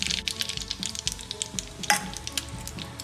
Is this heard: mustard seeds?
yes